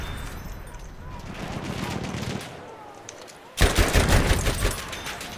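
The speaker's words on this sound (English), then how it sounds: "Machine gun! Over there!" Machine gun fire in the video game Battlefield 1, sustained rattling bursts under a noisy battle din, growing sharply louder and closer toward the end.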